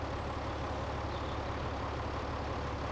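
Idling tractor engine in The Walking Dead Season 1 video game, a steady low rumble that holds unbroken throughout at a moderate, even level with no talk over it.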